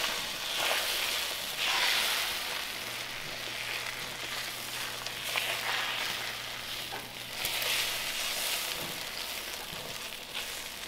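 An egg frying in a pan, a steady crackling sizzle that runs throughout with small pops and bursts, close and fairly loud, with no talking.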